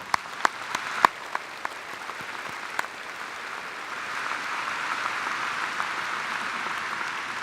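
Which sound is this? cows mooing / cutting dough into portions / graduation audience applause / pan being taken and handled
graduation audience applause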